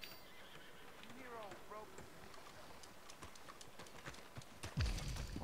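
In Red Dead Redemption 2, a horse approaches with soft clip-clop hoofbeats and a faint whinny under a player talking over quiet game ambience, ending in a louder thump.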